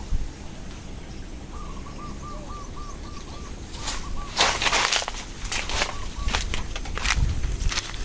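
A bird repeats a short series of hooting calls at a moderate distance, while nearer rustling and crunching footsteps cut in and out as someone walks through the outdoor setting.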